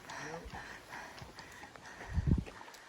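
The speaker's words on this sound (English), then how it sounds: "it's nice to see our friends there going on a horse" Horse hooves clip-clop on a steep mountain trail, a few soft scattered steps followed by a louder close cluster of hoof strikes, with faint background talk.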